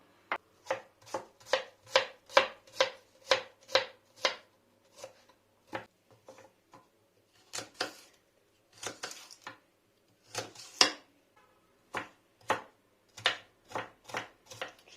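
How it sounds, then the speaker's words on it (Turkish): A knife chops vegetables into small cubes on a board while ingredients are prepared for spinach soup, giving crisp, close, fairly regular strikes in bursts with brief pauses between them. "işe ilk önce bütün malzemelerimi doğrayarak başlıyorum."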